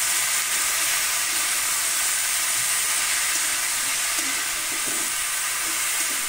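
Bottle gourd is stirred in a hot pan with onion and green chili, giving a loud, steady frying hiss and sizzle throughout, with faint scraping from the stirring, close up and with no voices.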